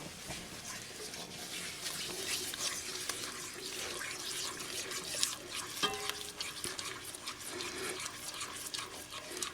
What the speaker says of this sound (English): Stir that and bring it to a boil.